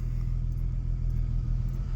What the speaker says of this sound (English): And she's up and running and idling.